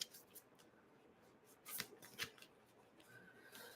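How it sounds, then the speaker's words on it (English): A deck of cards is shuffled for a psychic reading, a soft, quiet riffling with a few sharper flicks and snaps near the middle, close up and without talk. "I'm just shuffling the cards as you guys can see here"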